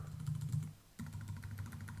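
Rapid clicking keystrokes on a computer keyboard patter steadily at close range, pausing briefly before resuming, with a low hum underneath.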